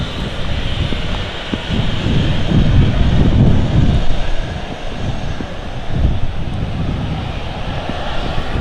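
An Emirates A380 airliner at Manchester Airport gives off a broad, rumbling roar that swells and fades, mixed with heavy wind buffeting the microphone.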